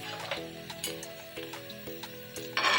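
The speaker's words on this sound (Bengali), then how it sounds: "এই তিনটে জিনিস দিয়ে 5-7 সেকেন্ড একটু নেড়ে চেড়ে নেব। টোটালটাই হবে কিন্তু হাই ফ্লেমে।" Garlic, ginger and green chilli stir-fry on high flame, giving a soft sizzle with regular clinks of a spatula against the pan, about every half second, and a sharper hiss near the end.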